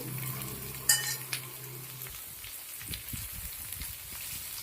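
Cut snake gourd and green chillies hit a hot pan, a brief clatter and burst of sizzling, then a steady hiss broken by soft scraping stirs.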